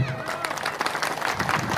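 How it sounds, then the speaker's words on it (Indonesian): An audience at an Indonesian religious lecture breaks into brief applause, a dense patter of clapping with a murmur of crowd voices underneath. "Tepuk tangan dulu."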